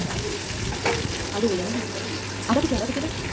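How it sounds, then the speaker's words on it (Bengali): Curry leaves sizzle and crackle in hot oil with mustard seeds for suji upma, a steady frying hiss with a spoon stirring through it, heard up close. "এরপর কারি পাতা দেব দিয়ে একটু নাড়াচাড়া করব"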